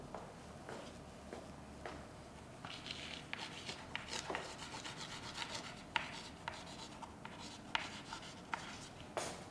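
Pen or chalk writing out a fraction during a sixth-grade maths lesson: soft scratchy strokes and light taps in an irregular rhythm, close and quiet against a faint room hiss.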